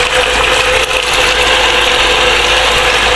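A water pump drawing from a drilled well runs loud and close, a continuous mechanical rattle and whir with a steady ticking, heard alone.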